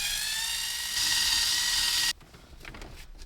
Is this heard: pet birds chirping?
no